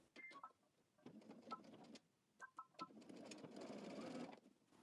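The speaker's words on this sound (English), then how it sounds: "You want to backstitch at the beginning" A sewing machine backstitches along a jacket seam, running in several short bursts with brief pauses before a longer continuous stretch of stitching, close and clear with no talk.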